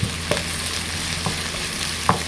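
Broccoli stir-fried in a pan gives a steady low sizzle, with three sharp scrape-and-clack stirring strokes spaced across a short stretch, close and moderately loud, no voices.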